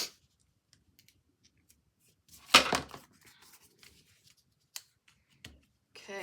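Scissors cutting paper for a scrapbook: one short, crisp snip burst mid-way, framed by a few faint clicks and soft handling noises in an otherwise quiet room.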